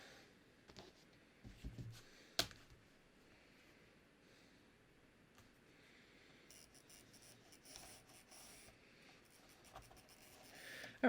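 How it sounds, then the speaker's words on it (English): Pen or pencil drawing a straight line from point to point across a paper sewing pattern for yoga pants pocket, a faint scratchy stroke at close range in a quiet room. "I'm just going to draw myself a line from point to point."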